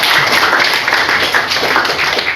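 Pupils in a classroom clap together in a loud, close burst of hand claps that continues evenly for a couple of seconds.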